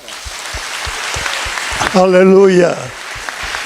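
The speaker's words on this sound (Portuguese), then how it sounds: "Uma salva de palmas para Jesus." Church congregation clapping in steady rhythmic beats throughout, with a loud sung or shouted voice rising over the clapping in the middle.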